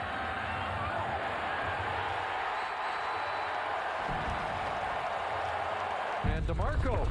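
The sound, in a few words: football stadium crowd cheering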